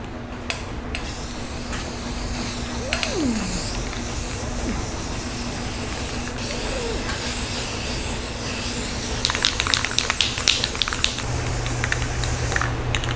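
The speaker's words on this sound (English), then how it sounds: "I'm going to spray paint all the sand that I put up" A steady, broad hiss of an aerosol spray paint can running continuously over sand, with a few clicks and rattles near the end.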